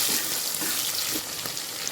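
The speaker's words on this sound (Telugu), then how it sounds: "ఆనియన్స్ ఇలా బ్రౌన్ కలర్ అయిన తర్వాత పచ్చిమిర్చి, స్ప్రింగ్ ఆనియన్ వేయాలి" Green chillies and spring onion hit browned onions in hot oil, giving a dense, even sizzle and crackle that holds steady for nearly two seconds, close and moderately loud, with no voices.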